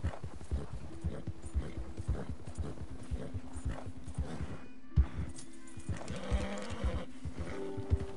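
Horse hooves clip-clop at a steady riding gait in the cowboy video game Harry der Cowboy, a continuous close rhythm over a low sustained musical drone.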